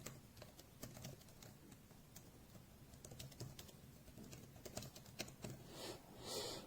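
Quiet, fast tapping on a compact iPad keyboard, light clicks in a steady stream with occasional pauses.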